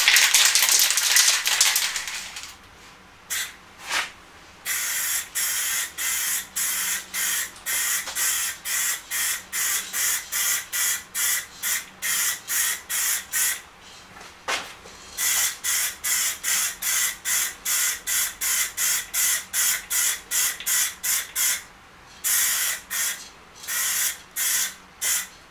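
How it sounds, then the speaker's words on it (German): Short hissing bursts of spray paint apply clear lacquer to a licence plate holder, a long initial spray followed by many rapid, evenly spaced pulses, close and loud. "danach kommt der Klarlack nochmal drüber"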